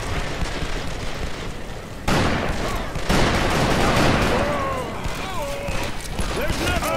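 Gunfire from a horse-drawn stagecoach escape in the Western video game Call of Juarez: Bound in Blood, with repeated loud shots and booms over constant rumbling motion while excited voices shout over the action.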